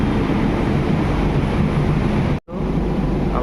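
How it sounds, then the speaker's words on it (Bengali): Kolkata Orange Line metro train pulling away from a platform on the run toward Subhash, a steady loud rumble and rolling roar throughout, briefly cut by a short gap before continuing. "আমাদের মেট্রো এই সুভাষের উদ্দেশ্যে রওনা দিচ্ছে।"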